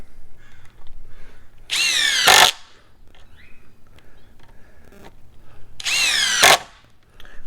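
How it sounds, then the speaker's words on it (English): Ryobi P239 brushless impact driver on a standard non-HP battery driving screws in two loud bursts of rapid hammering, each ending abruptly, with quiet pauses between. "this brushless impact is phenomenal, so I don't think it's going to have a problem even with the standard battery"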